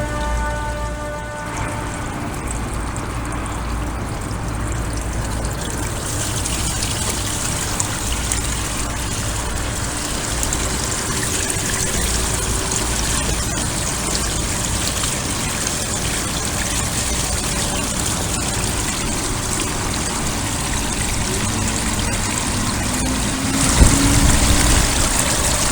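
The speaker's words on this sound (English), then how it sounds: "You might be able to see through the grate how much water is rushing in" Rainwater rushes through a clogged roof drain grate, a dense, steady roar of pouring and splashing water that holds loud and unbroken throughout, with a brief clatter near the end.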